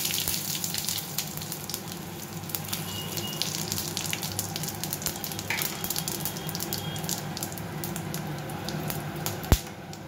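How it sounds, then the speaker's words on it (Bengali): Cumin seeds and dried red chillies tempering in hot oil left over from frying katla fish, a continuous close crackling sizzle with popping spatters and one sharp knock near the end. "এবারে এই তেলের মধ্যেই আমি জিরে আর শুকনো লঙ্কা ফোড়ন দিয়ে দিচ্ছি।"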